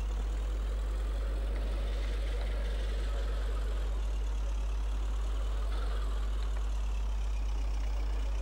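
A tractor engine idles steadily in the Farming Simulator 22 video game, a continuous low rumble with no break, loud and alone.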